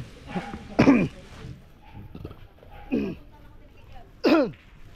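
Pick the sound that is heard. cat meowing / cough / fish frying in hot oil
cough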